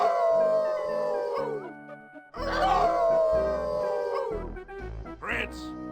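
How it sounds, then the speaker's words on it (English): Several wolf-like voices join in a group howl in the video game Inherit the Earth: Quest for the Orb, long sustained howls rising and falling together over a low game backdrop, in two main waves with a brief gap between. "Hey, everyone, how about a good group howl?"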